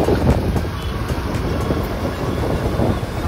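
A Mumbai metro train passes steadily and loudly for the whole stretch, with a broad rolling rumble, rhythmic wheel clatter and a faint high whine running above it, and no talk.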